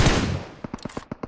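Gunfire in the mobile battle royale PUBG Mobile during a competitive scrim: a heavy shot fades out, followed by a quick rhythmic string of sharp, lighter shots, loud and close.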